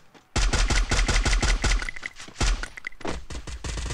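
Rapid automatic gunfire in a Free Fire-style battle royale video game, loud bursts of repeated shots firing in quick rhythm for most of the stretch, with short gaps between volleys.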